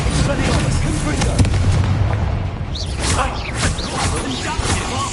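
Booming spell blasts and impacts from Hogwarts Legacy gameplay on PS5, loud repeated bursts layered with swooshing magic effects while a voice shouts spell incantations over the action.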